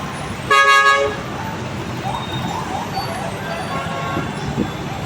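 Heavy road traffic on Commonwealth with trucks hauling garbage; a loud nearby car horn toots for about half a second, followed by steady engine rumble and roadway noise, with faint voices in the background.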